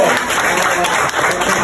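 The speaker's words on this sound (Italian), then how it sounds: "Applauso di incoraggiamento." Encouraging applause and clapping burst loudly and continuously from a group as a timed pasta-eating speed challenge begins, with no talking over it.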